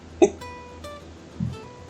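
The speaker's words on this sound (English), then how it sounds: "And now I've got the goddamn hiccups." A man lets out a few hiccups, one sharp and voiced, followed by fainter hitched breaths over quiet background tones, close and alone without talking.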